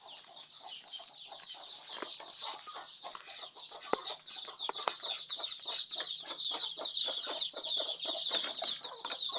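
Chickens cluck and chatter continuously in a busy flock, with short repeated calls layered over each other at moderate distance.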